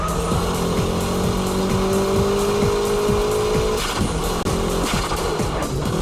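Car in a high-speed drift on a circuit, engine roaring steadily with harmonic whine while tires slide and squeal continuously, a brief dip near the end.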